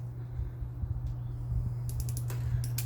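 Ratchet wrench working a tight spark plug loose from a 1968 Datsun 1000 after 24 years in a shed: close clicking of the pawl in short runs over a low steady hum, with a strained creak.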